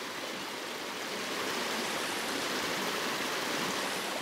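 A cascading waterfall stream at Springbrook in a dark, wet forest, a steady loud rush of falling water with no pauses, filling the whole scene.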